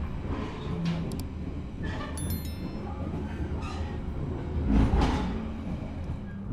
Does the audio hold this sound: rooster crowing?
no